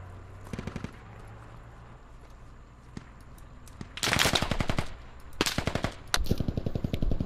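A machine gun nest firing in Squad, several rapid bursts of automatic fire, the loudest near the end, separated by quieter gaps with scattered single shots.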